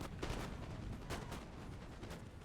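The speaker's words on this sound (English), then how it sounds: "Get some volley fire on this foot" Musket volley fire in a Napoleon Total War battle: repeated dull cracks ring out over a dense, constant din of distant combat, fairly faint and without voices.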